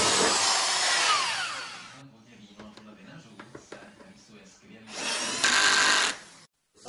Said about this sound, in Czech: Je zavřený v dílně, kde vrtá, pájí, vyklepává.